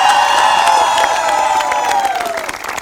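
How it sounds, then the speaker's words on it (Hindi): A studio audience claps and cheers loudly and close, with whoops and shouts over sustained tones, the roar easing slightly toward the end. "तालियां हो जाएं मुल्तान और बहावलपुर के लिए।"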